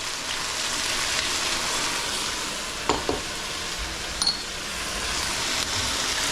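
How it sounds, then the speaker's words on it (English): Sauce mixture poured around the edges of a hot wok while cooking mu shu pork, giving a loud, continuous hiss and sizzle with a couple of brief clinks of a utensil against the wok. "Add our sauce mixture around the edges of the wok."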